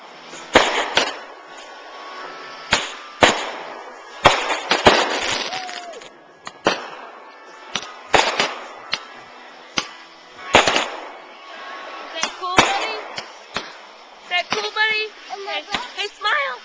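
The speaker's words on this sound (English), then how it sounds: "Watching the fireworks for the first time again." Fireworks bursting over Highland Lake, a dozen or so sharp loud cracks and booms spaced irregularly, with crackling and a child's and adults' voices talking between bursts.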